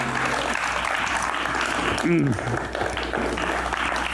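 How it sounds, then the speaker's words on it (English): Audience applause for illustrator Rick Hunt at a storytelling event, a steady wash of clapping running under a background voice, with a brief louder swell midway. "So we have applause for"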